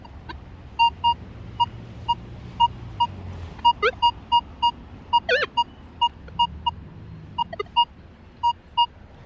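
Metal detector set to recovery speed 5, swept over a buried target while metal detecting in Oregon, giving short, high, evenly spaced beeping tones in a quick repeating pattern over a low rumble of ground noise.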